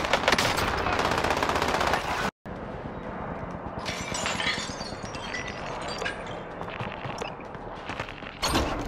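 Dense automatic gunfire in Call of Duty: Warzone, loud and sustained bursts of rapid shots that cut out briefly, then resume with overlapping fire and a sharp final burst.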